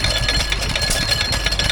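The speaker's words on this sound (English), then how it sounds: "Yeah, that's an oil engine, isn't it?" A vintage stationary oil engine runs at a transport festival, giving a steady, loud mechanical chugging with a dense, low rumble and a continuous rattle. Outdoor fairground noise surrounds it, and no one speaks.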